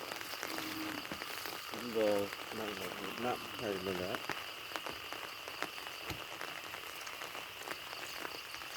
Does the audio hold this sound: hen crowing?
no